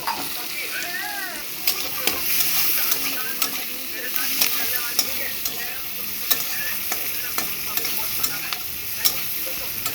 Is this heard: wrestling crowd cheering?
no